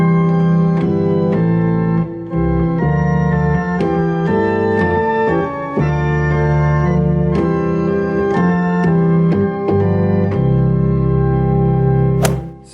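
Church organ plays the hymn Glorious Things of Thee Are Spoken to the tune Abbot's Leigh, with full sustained chords and a moving bass line, loud and steady throughout with a brief dip near the end.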